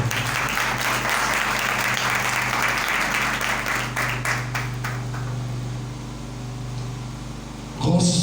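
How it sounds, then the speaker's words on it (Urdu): Loud, sustained applause from a church congregation fills the space, a dense wash of clapping with a low steady hum beneath, tapering slightly before a final burst near the end. "یسوع کے کفارے کے لیے زوردار تالیاں دیں۔"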